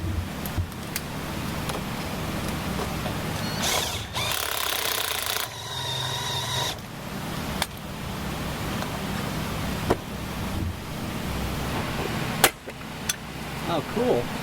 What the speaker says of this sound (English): going to drill smaller holes